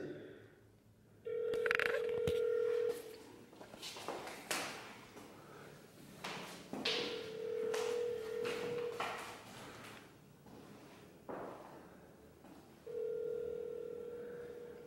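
A phone line rings in three separate long electronic buzzes, spaced apart, with handling noise and faint background chatter between them.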